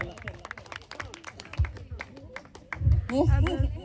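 Hands clap in a quick irregular patter of sharp slaps at a mehndi gathering, growing louder and denser toward the end, with voices talking over it.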